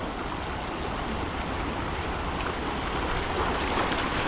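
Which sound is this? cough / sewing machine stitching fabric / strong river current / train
strong river current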